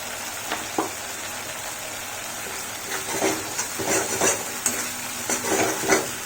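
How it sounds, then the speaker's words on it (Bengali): Spices fry in oil in a pan for a no-onion, no-garlic stuffed capsicum recipe. A steady sizzle runs throughout, with scraping stirring strokes coming more often in the second half. "মশলা ভালো করে ভাজা হয়ে গেছে"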